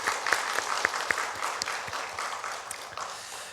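Applause from a church congregation during a Sunday service, a steady wash of many hands clapping with a few sharper individual claps standing out, continuing throughout.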